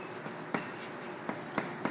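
A teacher writes an equation on a classroom board. The marker or chalk strokes come as a few short scratchy taps and scrapes over a quiet room hum, close and fairly soft.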